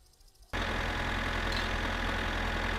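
A tractor engine in My Summer Car starts up abruptly after a quiet moment and settles into a steady, loud, low idle with a continuous rumbling drone.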